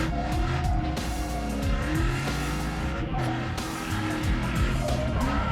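Cars in a professional drift battle at a King of Drift event, with engines revving up and down in wavering sweeps over screeching tire squeal and skidding, sustained and fairly loud.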